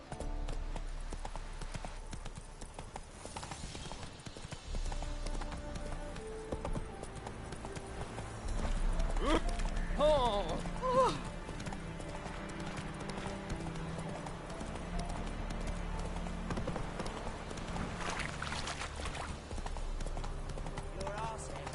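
Horse hooves clip-clop at a gallop in The Witcher 3, a fast steady drumming over game ambience, with a whinny partway through and speech running over it.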